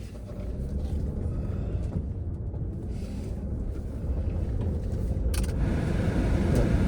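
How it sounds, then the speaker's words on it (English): Blower motor of a 2005 Land Rover Freelander running inside the cabin: a steady, close rush of air and motor noise that grows slightly louder toward the end. "Blower motor works."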